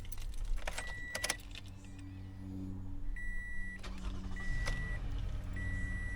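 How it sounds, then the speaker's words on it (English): A car being started after a battery replacement, with key jangling and a chime, then a cranking engine catching and settling into a low, steady idle with recurring dashboard beeps. "Car started right up, no issues."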